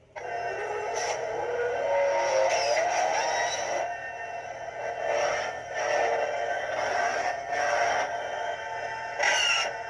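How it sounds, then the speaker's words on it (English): An Inquisitor Neopixel lightsaber from SabersPro runs its engine-like sound font, a continuous droning hum with rising and falling swells and a few sharp bursts, heard alone without any talk. "I call this one engine just because that's what it sounds like to me."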